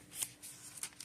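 Scissors cutting through notebook paper from a composition notebook, two or three quick crisp snips, close and quiet.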